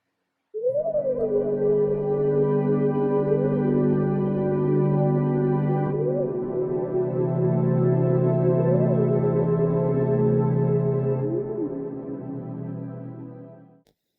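Two synth pads layered together, one an atmospheric Serum pad, make a dense sustained chord with a wavering lead line gliding up and down above it, holding steady for about thirteen seconds before fading out, alone and without speech.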